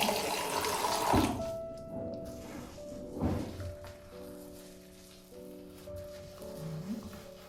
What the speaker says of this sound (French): Je vais mouiller un peu mon gant.